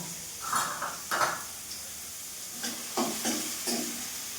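Onion frying with cumin and mustard seeds in a pan gives a low sizzle, broken by several short scraping bursts of stirring in uneven clusters.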